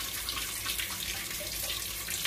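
Warm water runs from a kitchen tap in a continuous close, splashy rush, drawn to activate yeast for a blueberry coffee cake, with no talking.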